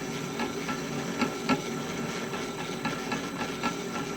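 A manual lathe parting off metal with a carbide insert parting tool gives a quiet, steady rattle, with faint rhythmic knocks and clicks over a low machine hum.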